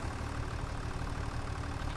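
A tractor engine runs steadily on a homestead farm near a canola field, a continuous low rumbling drone without pauses or talk.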